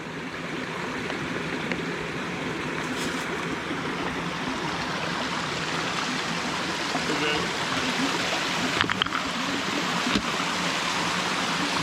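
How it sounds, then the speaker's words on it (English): A small forest stream along the Pinhoti Trail near Blue Mountain Shelter rushes and burbles steadily, a close, even wash of flowing water with no voices. "Very pretty little stream here."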